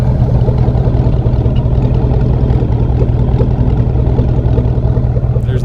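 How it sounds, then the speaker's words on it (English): An unmuffled 4.8L V8 in a 2004 Chevrolet Silverado with a 3-inch straight pipe idles with a deep, rough growl, loud and close, holding a steady rumble for several seconds. "there's the idle. Got that growl back to it without a muffler."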